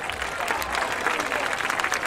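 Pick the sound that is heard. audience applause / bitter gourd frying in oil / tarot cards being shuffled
audience applause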